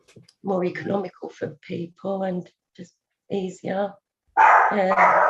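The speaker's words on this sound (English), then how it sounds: "Sorry about the dog." A dog barks in short bursts in the background of a council licensing hearing, heard intermittently under a man's continuous speech.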